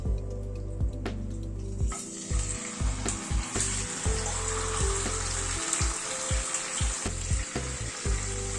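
Spice-coated chicken for Chicken Dhakai Korma hits a hot spice tempering in a pan, giving a loud, close, continuous sizzle broken by frequent stirring scrapes and clanks.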